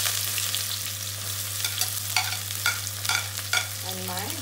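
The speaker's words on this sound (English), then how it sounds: "Adding in my onion" Onion frying in a pan with roasted fennel seeds for mutton liver masala, a close sizzle with several sharp spatula scrapes in an uneven rhythm over a steady hum.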